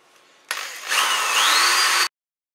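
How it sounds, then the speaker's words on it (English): A power drill whirs briefly, revving up and biting through a hatchet sheath to make a hole for a hook, for about a second and a half, then stops abruptly. "I can drill right through both things to get my spot for my hook"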